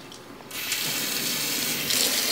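Warm water runs steadily from a tap while a dirty Vision V3 clearomizer is cleaned, a continuous close hiss that starts abruptly and swells slightly near the end, with no talking.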